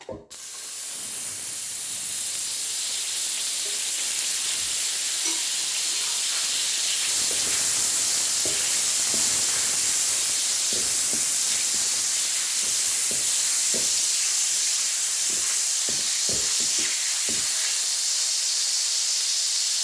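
A tablespoon of butter melts in a saucepan, giving a steady, loud sizzling hiss for about twenty seconds, broken by faint scattered pops and clicks.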